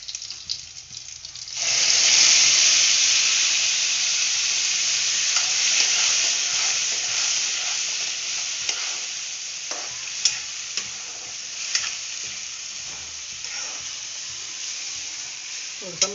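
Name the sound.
frying and stirring bombil fish with masala in pan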